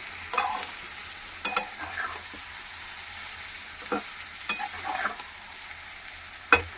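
Taro stolons sizzle and crackle in a hot pan, broken by several scraping stirs of a spoon against the metal, close by.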